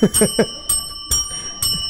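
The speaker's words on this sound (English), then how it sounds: "Oh my God, it's like bells at church." Ringing bells likened to church bells, heard as a series of bright, sustained metallic strikes with long ringing tones, while close voices talk briefly at the start.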